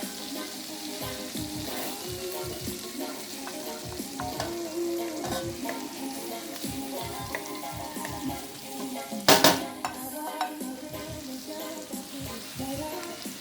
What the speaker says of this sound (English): I'm going to add my garlic.